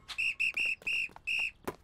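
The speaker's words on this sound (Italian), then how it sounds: "Ecco qua il tuo fischietto!" A whistle is blown in several short, shrill toots in quick succession, close and loud.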